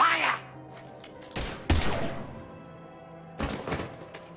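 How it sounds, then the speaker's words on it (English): Gunfire bursts in the video game Mass Effect 3, two sharp impact clusters in the middle and another near the end, mixed with game sounds and voices. "Now open fire!"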